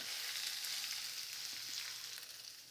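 Ridge gourd peel sautés in hot oil in a pan, giving a soft, steady sizzle and crackle heard quietly and alone, with faint stirring.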